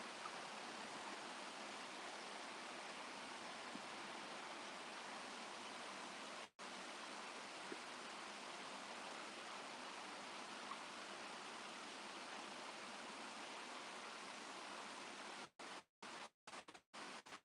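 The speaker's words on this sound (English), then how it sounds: "This the neighborhood creek out here in the mountains." A neighborhood creek in the mountains, a steady broadband rush of flowing water heard close and alone, with a few brief dropouts near the end.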